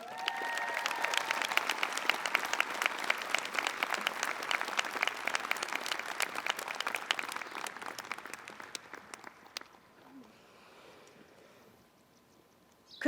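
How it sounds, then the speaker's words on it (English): Sustained audience applause at Saint Mary's College's 2021 commencement, a dense crowd clapping steadily for about nine seconds before it thins and fades. "give another round of applause to all these students and all of those who represented them on the stage"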